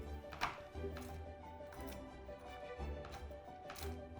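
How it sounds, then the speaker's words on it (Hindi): A knife chopping roasted dry fruits on a board: a handful of light, irregular taps at a quiet, close level, spaced about half a second apart, with no talk. "जो ड्राई फ्रूट्स हमने भून के रखे थे ना उसको ऐसे हल्का सा चॉप कर लेंगे चाकू से"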